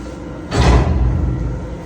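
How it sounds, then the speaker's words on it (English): A door closing aboard a workboat, a single dull thud followed by a low rumbling resonance that fades slowly against a constant engine-like hum. "There's the door closing."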